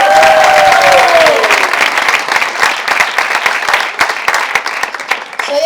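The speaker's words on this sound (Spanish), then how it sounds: "Un fuerte aplauso para el luchador de sumo, Chungo." Audience at a children's show gives a strong round of applause, loud dense clapping sustained for several seconds with some crowd noise, after a voice trails off at the opening.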